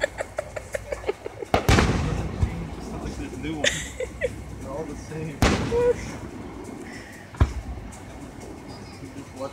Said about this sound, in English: people never want the fireworks to end